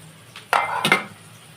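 A utensil stirs and scrapes onion, ginger and garlic frying in a pan: a few short, close scraping clatters of metal against the pan, with no talk.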